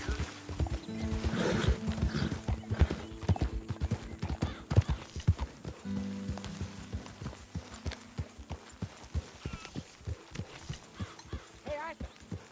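A horse in The Witcher 3 video game gallops with repeated rhythmic hoofbeats and lets out neighs and whinnies, with a brief line of speech mixed in among the close, clear hoof clatter.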